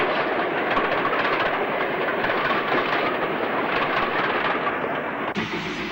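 A 1960s steam train on an RCTS rail tour out of Nottingham rumbles past east of Wellington station, a loud, steady roar of rolling wheels and clatter throughout, with no voices.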